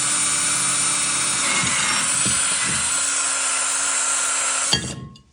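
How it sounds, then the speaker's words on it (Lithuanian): A power drill spins a bit through a hole in a car brake disc, holding a steady high whine for several seconds before it cuts off abruptly and winds down. "tai paimam grąžtelį panašaus dydžio,"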